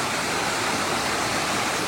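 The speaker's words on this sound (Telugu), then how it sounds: "ఇక్కడ ఇంకొక ఫాల్స్, వాటర్ ఫాల్స్." Continuous broadband roar of a waterfall at Garden of Caves, Meghalaya, loud and unbroken, with no other sounds.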